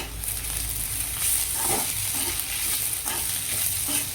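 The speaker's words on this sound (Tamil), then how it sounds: "அப்படியே இப்போ வெங்காயம் வதங்கினோடனே இஞ்சி பூண்டு பேஸ்ட்டு சேர்த்துடலாம். இப்போ இதை சேர்த்து வதக்குவோம்." Onions with ginger garlic paste are sautéed for a squid gravy, giving a steady close sizzle of frying with soft stirring scrapes in the pan, no talking.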